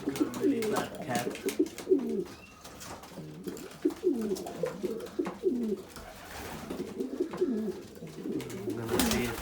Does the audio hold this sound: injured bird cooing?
yes